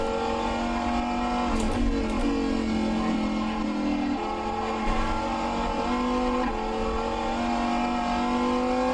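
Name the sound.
hypercar engine driving in racing game rFactor 2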